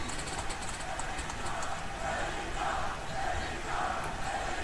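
A packed wrestling arena crowd at an AEW event chants AEW in unison, a loud, steady roar of many voices with rhythmic swells through the second half.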